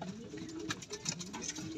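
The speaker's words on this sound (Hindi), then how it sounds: "लखा कबूतरी है" A Lakha pigeon sitting on its eggs gives a soft, brief run of low coos, close by and quiet, over faint room noise.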